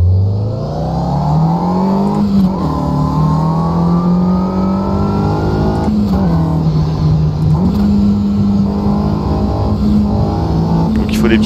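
A race car with right-hand drive and an H-pattern gearbox in the racing game Automobilista 2 holds a loud, steady engine drone that climbs in pitch, then drops briefly at each gear change near 2.5, 6 and 7.5 seconds before rising again.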